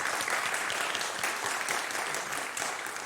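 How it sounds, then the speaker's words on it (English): A church congregation claps during a December service, a dense patter of applause at moderate distance that holds steady for a few seconds. "Yes, we can clap to that."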